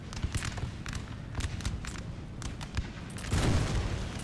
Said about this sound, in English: their own artillery is shredding their own infantry